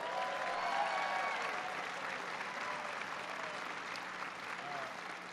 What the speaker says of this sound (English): I want to give him a big round of applause for that introduction